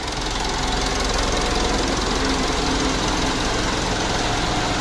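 Rough, knocking engine of a 2012 Mitsubishi Pajero Sport Dakar with a fault in a return hose, a dense steady rattling clatter heard close up and alone, constant in level.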